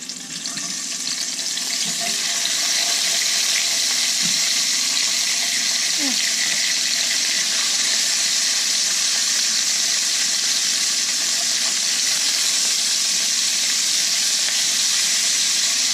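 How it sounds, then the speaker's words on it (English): Loud, continuous hissing sizzle of wet asparagus frying in hot bacon grease, steady throughout with occasional soft pops and a faint voice early on. "now this is going to splatter because I do have the bacon grease is still in my pan"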